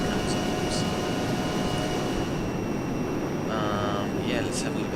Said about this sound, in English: Every time you accelerate, this sound comes up.